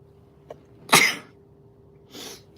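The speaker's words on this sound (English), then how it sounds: "Oh, I'm gonna sneeze." A single sharp, close sneeze bursts out after a short inhale, followed by a softer breathy exhale, in an otherwise quiet room.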